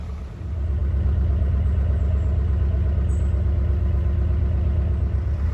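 A canal boat's engines turning over and settling into a steady, pulsing diesel idle, a close, even low throb that holds constant after a brief rise at the start.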